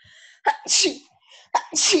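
Two sharp human sneezes in quick succession, close and fairly loud, each a short intake followed by an explosive burst, in an indoor room.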